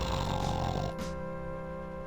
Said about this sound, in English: Sleeping it off. He snores in response.